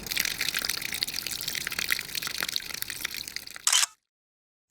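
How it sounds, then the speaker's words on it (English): Water gushes out of a cracked water tank in a converted van, a loud, continuous rushing splash up close that ends abruptly in silence. "It was leaking, or it was pouring out before."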